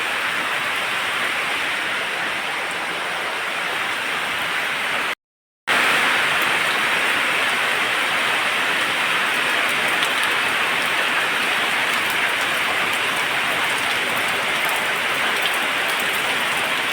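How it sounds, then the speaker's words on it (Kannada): Steady, dense rain pouring down, a continuous close hiss of drops on surfaces with a brief silent break near the start. "ಮಳೆ ಬರ್ತುಂಟು"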